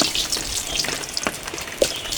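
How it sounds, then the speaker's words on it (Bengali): Mustard oil sizzles and crackles in a wok, a steady close hiss dotted with scattered pops and spits. "মাংস রান্না করার জন্য প্রথমে সরষের তেল, বাড়ি ধানের সরষের তেল দিয়ে দিব কড়াইতে।"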